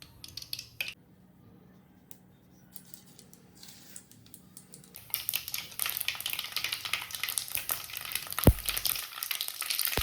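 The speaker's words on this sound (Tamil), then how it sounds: "இந்த எண்ணெய் சூடானதும் நம்ம கடுகு சேர்த்துக்கலாம்" Mustard seeds crackle and spit in hot oil left over from frying fish, a quiet start giving way at about five seconds to dense, loud, continuous popping and sizzling, with a sharp clatter of a utensil near the end, for a Kerala-style tuna pickle.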